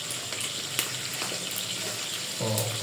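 Pork meat sizzles in a frying pan with a close, steady crackle and scattered pops, a little louder and fuller toward the end.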